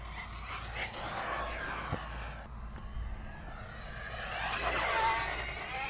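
A Traxxas Mini XRT RC truck on a 3S battery, fitted with cooling fans, runs at full throttle in a parking lot, its faint, high motor whine rising and swelling as it moves further out and back.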